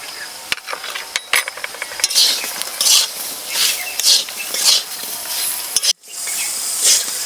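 Tamarind pickle is sautéed in a pan with repeated scraping strokes of a spoon and a soft sizzle in a regular rhythm, close and fairly loud.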